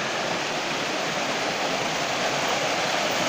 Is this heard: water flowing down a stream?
yes